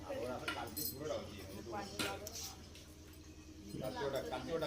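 Mutton curry being stirred in a metal pot, with scattered clinks and scrapes of a spoon against the pot heard close up beneath a person talking.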